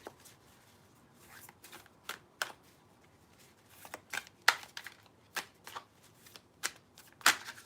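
An oracle card deck is shuffled by hand, giving a string of crisp riffling bursts at irregular intervals against a quiet background.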